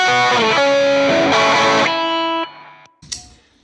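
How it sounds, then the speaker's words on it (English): An electric guitar played through heavy distortion on a Hotone Ampero Mini sounds loud, saturated chords that ring and then cut off, followed by a short burst of noise. "We wanted some really heavy distortion."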